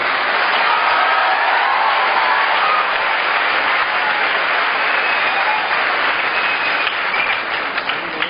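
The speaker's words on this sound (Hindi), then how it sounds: "इस आनंद के लिए हम सब एक बार जोरदार तालियां बजाएं।" A large crowd at a book launch event in Patna breaks into loud, dense applause, a continuous roar of many hands clapping at once that holds evenly throughout, close and strong, with no one speaking.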